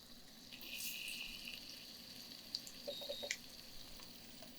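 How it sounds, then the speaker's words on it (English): Asafoetida and cumin sizzle in hot oil in an old chef's pan, a soft steady frying hiss with a few faint crackles near the end, close and without talk. "And we get another sizzle. That's the third sizzle."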